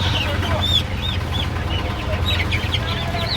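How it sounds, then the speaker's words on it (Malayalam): Chickens cluck and squawk in repeated short calls at a busy Kerala livestock market where ducks and guinea fowl are also sold, close and lively over a low background murmur of the crowd. "ഇപ്പോൾ താറാവുണ്ട്, ഗിനിയുണ്ട്, കോഴിയുണ്ട്, ഈ ഐറ്റംസുകളൊക്കെ ഇവിടെ ഉണ്ട്."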